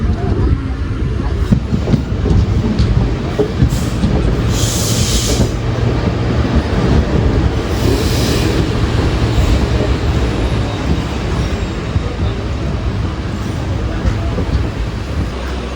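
The Coimbatore Madurai Intercity passenger train rolls out after departing a small station, a loud continuous rumble of wheels and carriages with rattling and occasional higher squeals and hisses, steady throughout.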